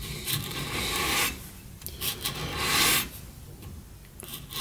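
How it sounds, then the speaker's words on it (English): A grinder works a thick titanium fixed-blade knife in rasping, uneven bursts, loud for a second or so at a time with quieter gaps between passes. "Right now I'm just fixing up some of my mistakes in the grinder"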